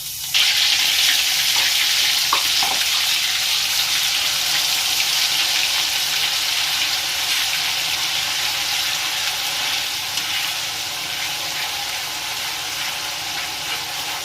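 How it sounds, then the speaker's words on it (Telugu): Ginger garlic paste frying in hot oil, a loud, steady close sizzle with a brief clatter near the start, fading slightly toward the end. "ఇప్పుడు ఈ ఆయిల్లో అల్లం వెల్లుల్లి పేస్ట్ వేసుకుని పచ్చి వాసన పోయేంత వరకు దాన్ని మనం ఆయిల్లో వేసు చూసుకోవాలి"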